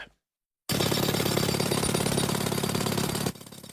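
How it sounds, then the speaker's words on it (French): A jackhammer breaking through asphalt at a toll-motorway construction site, a loud, rapid, unbroken hammering burst of nearly three seconds that stops abruptly after a brief silence. "La force d'un marteau-piqueur pour percer l'asphalte, atteindre le béton armé"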